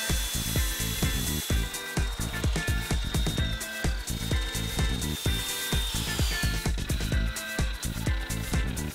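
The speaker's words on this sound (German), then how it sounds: "Dafür verwenden wir eine Kappsäge mit Aluminiumsägeblatt." A miter saw with an aluminium blade cutting aluminium profile whines and bites repeatedly, with rapid rhythmic cutting bursts and a high metallic ring, loud and close, no voices.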